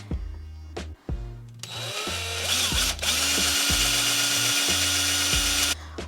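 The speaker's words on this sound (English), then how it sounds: "I've got some holes marked where the screws will go in. And this should be a fairly easy job because this is aluminum" A power drill whirs up and bites into an aluminum pedalboard, its motor whine rising to a loud, sustained grinding drone as the bit cuts through the metal, close and uninterrupted by speech.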